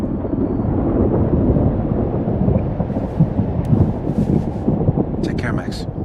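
A storm in the video game Life Is Strange: Double Exposure: a steady low roar of wind and rumbling thunder, moderately loud, with a few faint higher tonal sounds near the end and a voice speaking over it.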